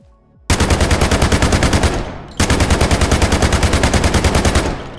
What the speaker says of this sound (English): So you can go ahead and shoot all these.